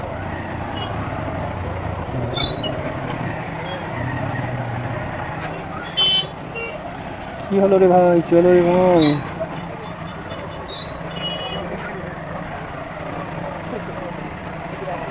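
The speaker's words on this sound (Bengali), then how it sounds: "বড় গাড়ি ঢুকে গেছে দুখানা একসঙ্গে" A traffic jam on a road where two large vehicles have pushed in together brings a dull drone of engines, scattered horn toots and one long wavering honk midway, while people talk close by.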